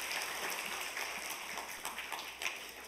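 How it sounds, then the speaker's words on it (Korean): Sunday church congregation claps together, a fairly faint, distant patter of many hands with a few sharper individual claps standing out near the end. "박수 한번 해주세요"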